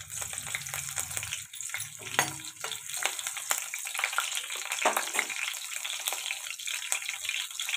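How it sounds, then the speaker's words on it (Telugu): Whole spices for Andhra chicken curry fry in hot oil with a steady, close sizzle and bursts of crackling and popping throughout, with no talk over it. "ఇప్పుడు ఆయిల్ వేడిందండి, మసాలా దినుసులు వేసుకున్నా. ఇప్పుడు ఇవి ఫ్రై అవ్వనిద్దాం."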